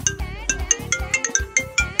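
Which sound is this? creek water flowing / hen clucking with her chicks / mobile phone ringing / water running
mobile phone ringing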